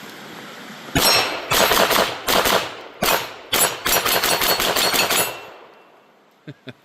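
A Taurus TX22 Gen2 .22 LR pistol fires about a dozen sharp, close shots in a quick, uneven string with short pauses, the last reports fading into outdoor quiet.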